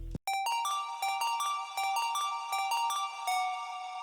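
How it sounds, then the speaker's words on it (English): A bright synth arpeggio in an electronic music track, steady repeating plucked notes in a quick even rhythm after a short low thump at the start, clear and alone with no voices. "You can also put some different sounds in there, like this ARP that I have."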